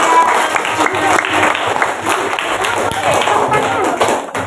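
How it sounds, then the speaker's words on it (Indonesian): A group of schoolchildren in a classroom applauds a student group, close, uneven clapping with taps and thumps mixed with children's voices. "Beri tepuk tangan untuk kelompok 3."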